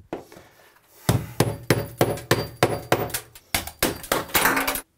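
Bathroom wall tile being pried off a row above a tub, a series of about ten sharp cracking and clinking impacts in a steady rhythm, close and fairly loud, with no talking.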